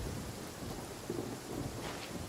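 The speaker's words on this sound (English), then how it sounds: "When did it start to rain?" Rain falls steadily in the Genshin Impact video game while low thunder rumbles beneath it, a soft, even wash of drops and distant rolling booms with no talk.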